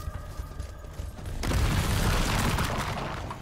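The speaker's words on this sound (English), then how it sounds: "That's a big old explosion." A big explosion in the video game Strange Brigade erupts suddenly and loudly after a quieter stretch of game ambience, then rumbles on as a sustained, dense roar.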